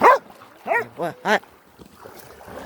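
Four loud, close dog barks from Rottweilers and a Belgian shepherd, the first alone and the last three in a quick row, then quiet with faint background noise.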